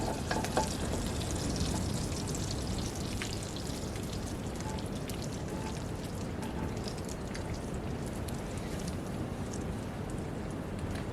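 Burgers sizzle and crackle over an outdoor campfire, a dense, continuous frying hiss with scattered pops that stays steady and fairly close throughout, no voices.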